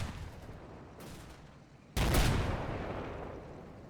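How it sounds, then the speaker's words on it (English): Tank battle gunfire in the WWII game Combat Mission, a muffled distant thump followed by one loud, sharp cannon blast that rolls off into a long rumbling decay. "Inching forward on the left, we get our first tank engagement, destroying a panzer."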